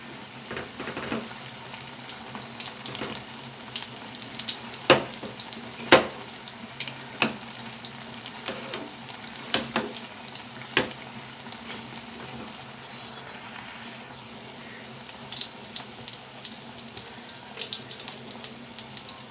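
Mung bean burelu fry in hot oil with a steady crackling sizzle, with scattered sharper pops and utensil taps throughout.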